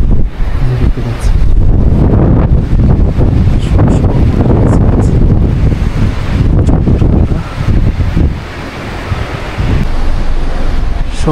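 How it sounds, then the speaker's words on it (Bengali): Strong wind roars across the microphone during a heavy snowfall in freezing sub-zero weather in Japan, a continuous loud rush with gusts rising and easing and a brief lull near the end, with no one speaking. "ঝড়ো বাতাস বইছে, তুষারপাতের সাথে সাথে প্রচন্ড ঠান্ডা"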